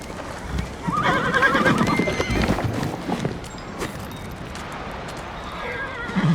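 A horse in a video game neighs loudly and close, with a long shrill whinny and hoof clip-clops beneath it, then fades into quieter ambient noise.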